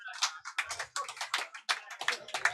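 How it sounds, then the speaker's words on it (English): A small golf clap at an arm wrestling event, a few people patting hands in a quick, light, uneven rhythm for a couple of seconds, fairly faint and close. "Golf clap. You love to hear a golf clap at an arm wrestling."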